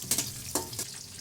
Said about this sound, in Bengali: এর জন্য আমি 2 কাপ পরিমাণ তেলে 4টা বড় সাইজের পেঁয়াজ দিয়ে নিয়েছি।